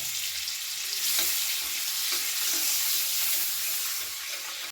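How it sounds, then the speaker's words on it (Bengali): A piece of butter melting into hot oil left from frying eggs, a steady dense sizzle heard close and alone with faint bubbling pops. "ডিম ভাজা এই তেলের মধ্যে দিয়ে দিলাম এক টুকরো বাটার"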